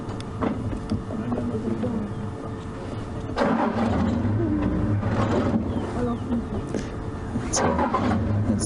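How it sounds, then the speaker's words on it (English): A safari vehicle rumbles along with engine noise and road roar, growing rougher and louder in bursts as it moves. "vehicle moving, obviously."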